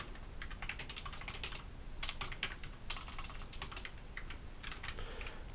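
Quick, irregular bursts of keystrokes on a computer keyboard clatter at close range, rapid clicks bunched into short runs with brief pauses between them.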